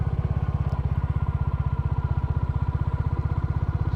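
A Royal Enfield Classic motorcycle rides over bumpy off-road trails, its single-cylinder engine chugging in a steady, rapid low thump close by, with faint rattles and clatter riding over the beat.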